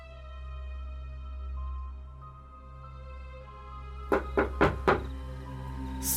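Four sharp knocks on a door in quick succession, loud and close, following a stretch of soft, low ambient drone.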